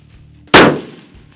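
A single loud rifle shot fired from a bipod, a sharp close crack with a short decaying ring, with a low hum before and after it.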